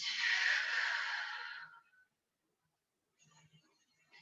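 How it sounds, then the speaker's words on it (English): A person exhales a long, deep, breathy sigh during a Pilates breathing exercise, followed by silence and a faint soft breath. "Breathe in and breathe out."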